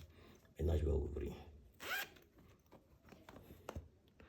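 A wallet's zipper is pulled open in one long, loud close-up rasp, followed by small handling clicks and rustles, with talk around it.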